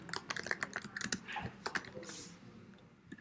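Rapid clicks of keys on a computer keyboard as a bookmark name is typed, quiet and close, in quick irregular bursts with short pauses and no voices.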